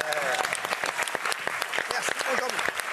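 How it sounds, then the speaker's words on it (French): A French television studio audience applauds steadily, a dense wash of clapping with a host's voice speaking over it. "Applaudissements pour lui."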